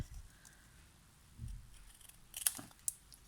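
A couple of sharp scissor snips cut through paper in a quiet room, with faint handling noise before them.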